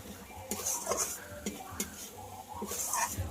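Spice paste with chili, cumin and coriander powder being stirred in a pan for a paneer and potato dish, heard as repeated clinks and scrapes of a metal spoon against the pan over a faint sizzle.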